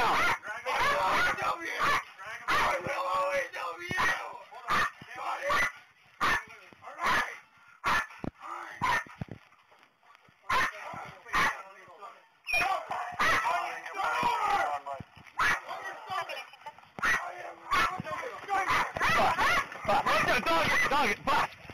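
A police dog barks and yips in sharp, repeated bursts during an attack on a man, close and loud, with officers shouting commands over the barking throughout.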